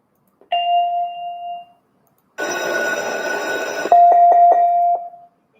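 Electronic bell chimes from an IP speaker ring out in separate bursts: a sustained ding, then a bright ringing bell, then a quick series of repeated chime strikes fading out.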